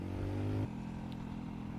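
A Royal Alloy scooter with a lowering kit drones steadily while riding, with a brief strong low hum early on before settling into an even exhaust rumble.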